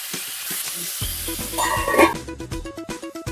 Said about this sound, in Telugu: టమాటా మగ్గేంత వరకు ఉడికించుకుందాం.